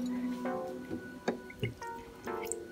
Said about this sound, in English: let me just grab a cup of water